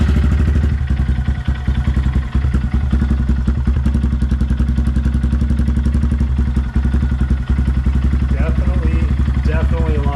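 A Honda Grom motorcycle fitted with a Yoshimura exhaust fires up and idles, a loud, close, rapid lumpy putter with steady thumping pulses throughout and a voice briefly heard near the end.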